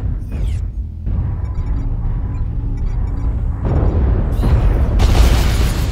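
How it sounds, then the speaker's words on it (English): Artillery explosions in the video game Mechwarrior Online land as a series of deep booms and rumbling blasts, growing louder toward the end over a dense background of game noise. "artillery heading our way. Gotta move."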